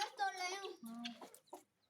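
A hen with a clutch of twelve young chicks clucks and chirps nearby in a few quick, fairly quiet bursts of warbling, rising calls that quickly trail off.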